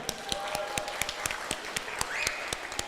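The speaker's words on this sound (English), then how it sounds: "give yourselves a round of applause for being here today" A small audience at a law firm's kickoff rally claps in a thin, scattered way, with individual hand claps standing out sharply and close over a light, soft bed of applause.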